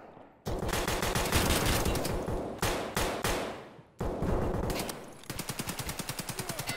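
Automatic gunfire in the game Escape from Tarkov, on the Factory map: long loud bursts of rapid shots, a short pause, then more sustained fire ending in a steady rattling string of rounds, with no talking.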